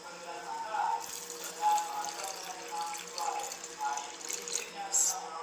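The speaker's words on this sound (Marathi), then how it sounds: "तेवढं पाणी टाकून घेते" Water runs and splashes into a cooking pot for amti (lentil curry) in uneven gurgling bursts, fairly close, with faint background murmur.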